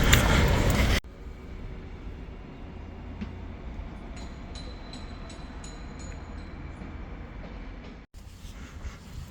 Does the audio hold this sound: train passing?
yes